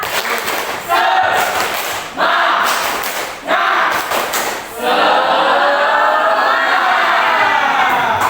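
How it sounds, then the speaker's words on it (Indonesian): A class of schoolchildren performs the rhythmic tepuk semangat spirit clap, loud bursts of clapping and shouting in several sections, ending in a long sustained cheer. "Yuk, tepuk semangat."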